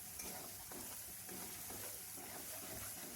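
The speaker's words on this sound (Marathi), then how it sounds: "लसूण, हिरवी मिरची आणि थोडंसं कोथिंबीरच्या दांड्या घेतल्या आणि ते असं जाडसर भरड करून घेतली आणि ते आता मी परतू राहिली" A coarse paste of garlic, green chilli and coriander stems sautés in a kadhai, giving a soft, steady sizzle with rhythmic scraping strokes of a spatula, faint and close, with no talking.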